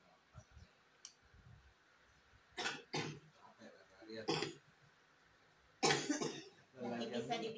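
A patient with a pinched spinal nerve coughs several times in short, sharp bursts, spaced a few seconds apart, with people talking nearby between them.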